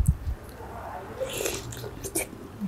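Squid tentacles from a spicy Thai mixed seafood salad being bitten and chewed close to the mic, with soft wet crunches and mouth sounds in irregular bursts and quiet murmuring in the background.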